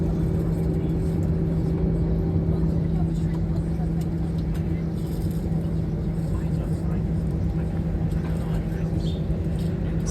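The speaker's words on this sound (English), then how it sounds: "There it goes, de-icing the plane." A passenger airplane sits on a snowy apron being de-iced before departure, a steady loud engine and pump drone with a constant hum running throughout, close by and unbroken.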